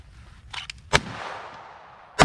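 Gunfire from a handgun during a close-range gun retention training drill, with a few sharp shots spaced apart: a softer pop early, then two loud, near cracks about a second and a half apart.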